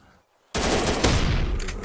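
A shotgun fires in the zombie survival video game Zombie Island, one sudden loud blast bursting out of near-silence, followed by a dense rumbling tail.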